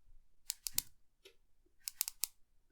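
Button clicks on a Sofirn HS20 dual LED 18650 headlamp, two quiet bursts of three sharp close clicks each, separated by a pause, in an otherwise quiet room.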